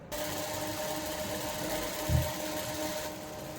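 A sewing machine runs steadily and close by while stitching the hem of a skirt lining for a kali kurta, a continuous mechanical hum with one brief low thump partway through.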